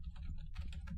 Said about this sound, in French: vous allez presser les touches Windows plus R de votre clavier.